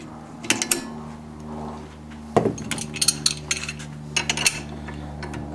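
Bolt being worked out of a Savage rifle: a few close metallic clicks and slides, with a sharper rattling clack midway and more light clinks after, over a low steady hum.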